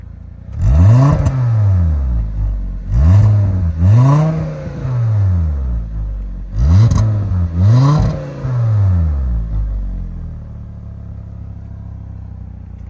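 Stock single-muffler exhaust on a 2011 VW Jetta 2.5 revved in four loud bursts, each swelling and falling back to a steady idle that fades near the end, with no talking.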